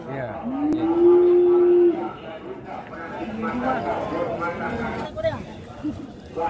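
Bali cattle at a livestock market give a loud, sustained moo of about a second, followed by crowd chatter and nearby voices talking throughout.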